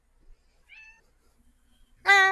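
A house cat meows twice: a faint, brief mew early on, then a louder, clearer meow close by at the end, with near silence between.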